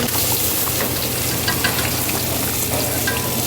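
Fish for catfish-eel curry frying in a pan, a dense continuous sizzle and crackle with occasional stirring scrapes, loud and close, with no talk.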